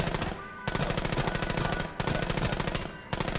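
Rapid automatic gunfire in the video game The American Dream, a dense continuous burst of shots that breaks off briefly twice, loud and close with no talk over it.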